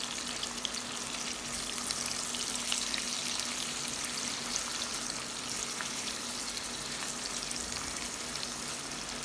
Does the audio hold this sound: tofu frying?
yes